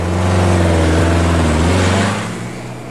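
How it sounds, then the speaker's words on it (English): An air-cooled VW engine enlarged to 1800 cc, fitted in a lowered Cal Look fastback, revs with a loud close rasp over a steady low throb, then drops off toward the end. "this one's enlarged to 1800 cc's. It powers another Cal Look fastback."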